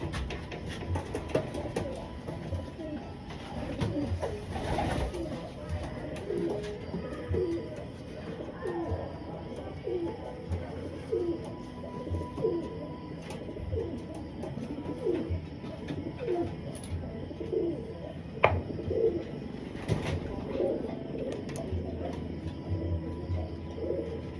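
Pigeons coo repeatedly in soft, low rhythmic phrases against a steady background hum, with a few faint chirps and clicks.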